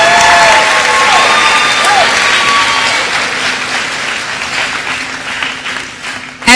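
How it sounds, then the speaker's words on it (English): Loud, sustained applause with a few whoops and cheers rises from the audience at an 8th grade promotion ceremony for the students, gradually thinning toward the end. "Let's give our students another round of applause."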